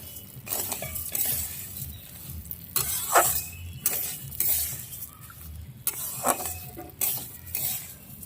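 Rice frying in a pan for pulao, stirred with a spatula in repeated scraping strokes over a continuous sizzle, close and clear with no voices.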